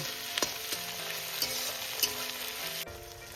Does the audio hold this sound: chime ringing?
no